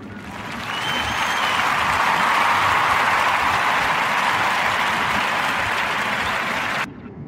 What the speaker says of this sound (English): So we're gonna clap it up for him.